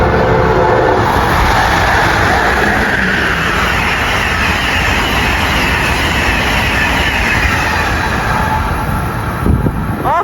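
A passenger train rolls past at Princeton Junction station, a loud, steady rumble close by for the whole stretch, with a faint horn-like note near the end.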